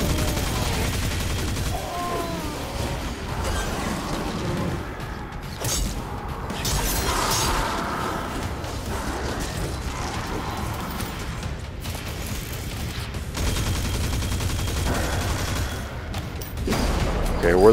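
Weapons fire in the sci-fi shooter Destiny 2 comes in bursts and single shots amid mechanical clanks and booms, with stretches of quieter ambience, and voices talk over the action.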